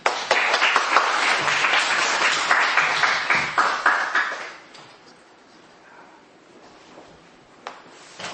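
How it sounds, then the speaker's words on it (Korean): A church congregation breaks into loud, dense applause to welcome a guest pastor at a dedication service, then fades to quiet room tone with a few scattered claps. "큰 박수로 맞이해 주시죠."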